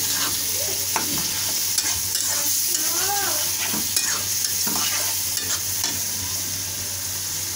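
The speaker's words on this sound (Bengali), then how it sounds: "এখন আমি সবগুলো উপকরণ ভালো করে নেড়ে নিব।" Chicken pasta ingredients mixed with yogurt are stirred in a pan: a steady sizzle with repeated scraping strokes of a spoon against the pan, fairly close and continuous, with no talking.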